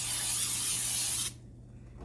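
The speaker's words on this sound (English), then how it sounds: "you're gonna get a big bowl and you're gonna spray it" Regular Pam cooking spray hisses steadily into a big bowl for about a second, then cuts off, followed by near silence and a faint click.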